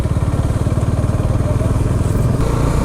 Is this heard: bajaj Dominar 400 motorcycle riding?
yes